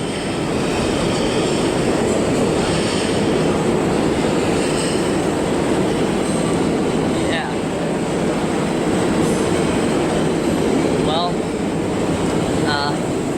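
A subway train rumbles steadily past directly underneath as a broad, continuous roar with faint squeals of wheels on track, sustained throughout.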